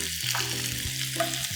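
Onions hit a pan of tiger prawn Manchurian, and a dense, steady sizzle of hot frying fills the whole moment, close and even, with a faint low tonal hum underneath and no voices.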